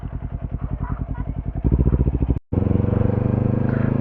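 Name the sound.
motorcycle passing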